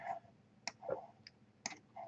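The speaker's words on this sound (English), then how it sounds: "selecting the component and pressing the delete key of the keyboard" Quiet, isolated clicks of keys on a computer keyboard, a few separate presses spread over about two seconds with short pauses between them, heard close and alone.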